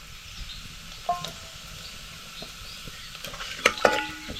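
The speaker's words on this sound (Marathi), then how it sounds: "तेलात आपल्याला ना जरा हे खडे मसाले असे परतवून घ्यायचे." Whole spices such as green and black cardamom, cumin, cloves, black pepper, star anise and cinnamon are sautéed in hot oil with a faint sizzle, while a utensil stirs and scrapes against the pan in light clinks.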